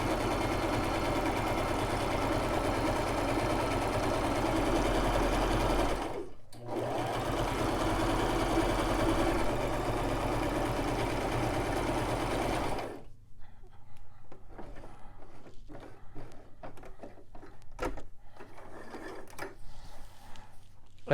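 Brother LX3817 sewing machine stitching a zigzag edge finish on fabric, a loud, fast, steady mechanical whir with one brief pause, then stopping into quieter handling clicks and rustles.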